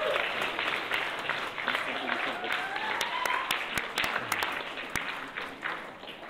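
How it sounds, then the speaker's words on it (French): Audience applause in a French comedy show, a steady wash of clapping with a few sharper individual claps, while a voice talks over it. "Vous pouvez vous applaudir"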